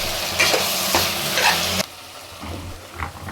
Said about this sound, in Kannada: ಇದನ್ನು ಹಾಕ್ಕೊಂಡು ನೀಟಾಗಿ ಹಸಿ ವಾಸನೆ ಹೋಗೋ ತನಕ ಇದನ್ನು ಹುರ್ಕೋತೀನಿ.